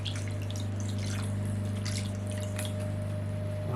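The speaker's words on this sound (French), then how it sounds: "je commence par verser mon vin sur les maquereaux" White wine poured over mackerel in a dish, a steady close liquid stream and splashing over a constant low mechanical hum.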